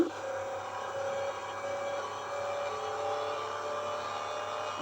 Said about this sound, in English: The biggest drift ever.